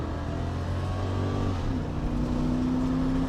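An $800 older sedan with a blown-out setup accelerates hard, its engine note rising in steady, loud harmonics that climb and shift as it gains speed, heard up close with no talking.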